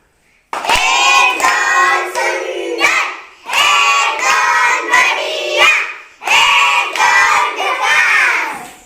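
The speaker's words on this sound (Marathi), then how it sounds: "टाळ्या स्टार्ट" Children clapping in unison in several bursts of rhythmic applause, loud and close, with short pauses between rounds and some excited shouting mixed in.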